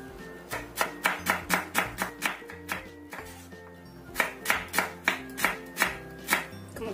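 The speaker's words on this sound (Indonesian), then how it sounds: "Ini kita chop-chop halus." A knife finely chopping food on a board in quick, regular strokes, two runs of crisp, close thuds separated by a brief pause, with no talk.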